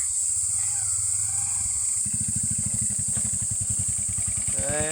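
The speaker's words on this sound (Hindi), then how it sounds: "देखो बाइक निकाल रहा है, ये अपनी फटफटी से जाने वाला है" A motorcycle is brought out and started close by: after a low rumble, the engine catches about two seconds in and settles into a steady, fast thumping idle over a constant high hiss.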